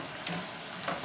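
A stir fry cooks in a pan with a steady, close hiss of sizzling oil, broken by a couple of light clicks of a utensil stirring against the pan.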